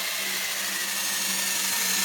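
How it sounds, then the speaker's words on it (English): A power drill turning clockwise grinds and scratches against raw wood to distress it, a steady close whirring buzz with a constant hum running unbroken throughout, no voices. "you have it to where the drill's turning to the right"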